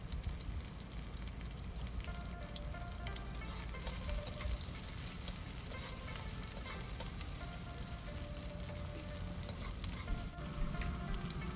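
Onions and pepper fry in hot oil in a pan, a steady close sizzle and crackle running throughout with no talking.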